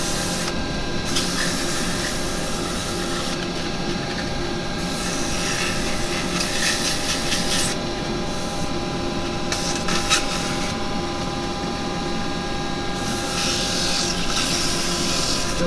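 Sandpaper is pressed inside a small wooden pot spinning on a woodturning lathe. It makes a steady, close rasping hiss that keeps on without a break, with no voices.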